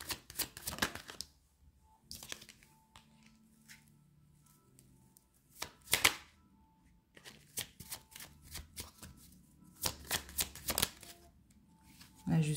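Tarot cards being shuffled in several quick riffling bursts separated by short quiet pauses, close and fairly soft, with someone speaking briefly between them.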